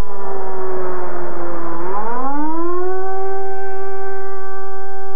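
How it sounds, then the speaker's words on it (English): A loud air raid siren wails steadily over Tel Aviv, its tone dipping and then rising again into a sustained high howl. "air raid sirens sounded again in Tel Aviv"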